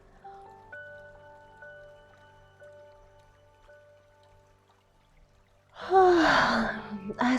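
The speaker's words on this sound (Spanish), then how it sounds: "disfruta de tu bostezo un par de veces más" A person yawns loudly and close near the end, a long breathy exhale that slides downward, after a quiet stretch with soft tonal background sounds.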